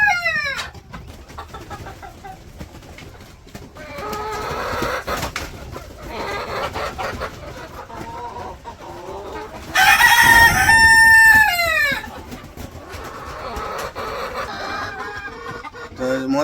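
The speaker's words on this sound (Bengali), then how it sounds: "তারপরে শুরু করছে মুরগিতে কর কর কর কর শুরু করছে" Village chickens clucking and cackling close by, with loud bursts of excited calls and a rooster-like crow in the middle, over a busy outdoor background.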